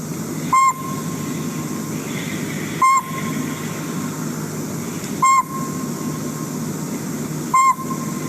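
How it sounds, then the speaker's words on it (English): Recorded advertising call of a pygmy owl, four evenly spaced single hoots roughly two and a half seconds apart, clear and moderately loud over a low background hum. "I have a sound clip of the pygmy owl here that I'm just going to play quickly"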